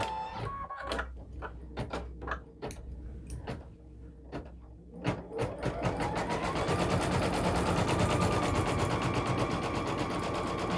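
A single-needle embroidery machine stitches a child's sweatshirt, starting with sparse clicks and taps before settling into a steady, loud, rapid rhythmic chatter of the needle that runs continuously to the end.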